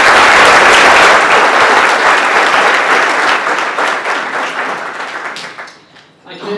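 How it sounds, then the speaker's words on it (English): An audience at a college conference keynote gives a congressman a round of applause: loud, dense clapping that fills the room, then thins and fades toward the end. "if we could give the Congressman a round of applause"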